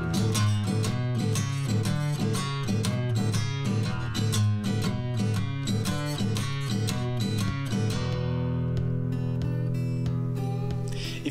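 An electric guitar plays a driving Texas blues rhythm, with steady, evenly spaced strummed chords for about eight seconds before it settles into a ringing, sustained chord and lighter picking, heard alone and close.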